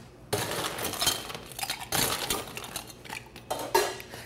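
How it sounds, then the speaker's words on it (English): Ice going into a metal cocktail shaker for an Aromatic Collins, a run of close, bright clinks and rattles of cubes against metal and glass, with no talking. "We're gonna add some ice."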